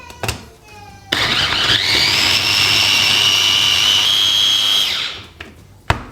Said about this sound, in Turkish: Şimdi rondomu çalıştırıyorum.